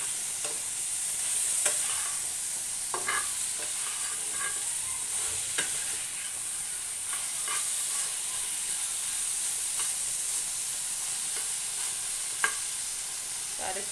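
Food fries steadily in a pan with turmeric added, giving a soft continuous sizzle. Spatula stirs and scrapes come through as brief sharp clicks at irregular intervals, with no talking.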